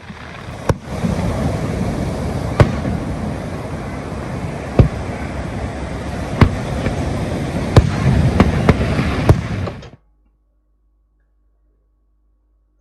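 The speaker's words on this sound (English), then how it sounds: "fireworks display here on the Spit at Mooloolaba, and it was brilliant" Fireworks display over the Spit at Mooloolaba: scattered sharp bangs stand out over a steady, roaring wash of noise that continues for about ten seconds, then cuts to silence.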